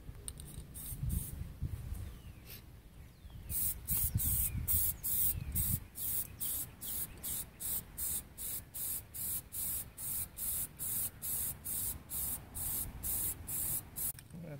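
A spray can lays Plasti Dip onto the grille of a 2014 Dodge Charger in a long run of short, hissing bursts with brief pauses between them. Soft handling noises are heard nearby.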